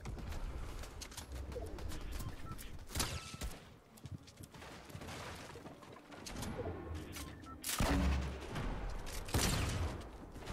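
Gunfire in a Fortnite match, with several loud, sharp shots breaking through busy game ambience that includes cooing birds, the shots spaced irregularly and the biggest bursts coming late.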